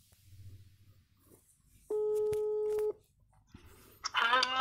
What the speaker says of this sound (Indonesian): Ini kita telepon dulu ya.